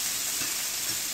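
Shrimp sizzling in a hot pan, a steady close frying hiss with faint crackles, heard alone without talk.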